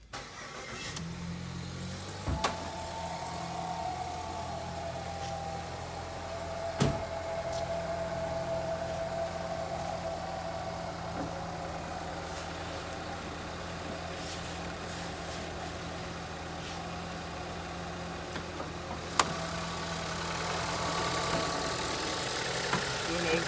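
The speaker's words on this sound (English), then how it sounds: "I'm going to go ahead and start the engine up." A 2015 Ford Escape engine cranks and catches, then settles into a steady idle that runs on with a few faint clicks and taps nearby.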